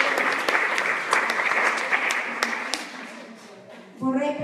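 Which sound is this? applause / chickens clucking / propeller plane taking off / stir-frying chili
applause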